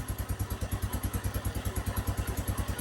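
A 1982 Honda 200E motorcycle idles close by after a top-end rebuild, its engine thumping in a fast, even, steady pulse with a metallic clatter on top and no talk.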